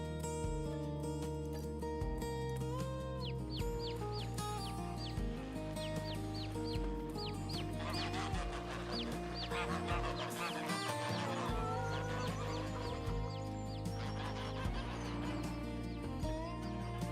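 Chickens cluck and chatter over and over in Farming Simulator 25 while a steady, loud droning bed of in-game sound plays underneath with no voices.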